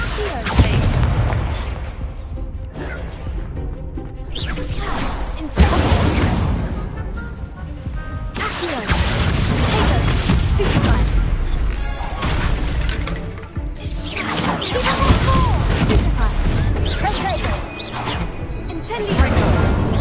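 Confringo explosion spell in the Hogwarts Legacy video game, a dense run of loud booms, bursts and crashing blasts that fill the whole stretch amid battle noise, with voices mixed in.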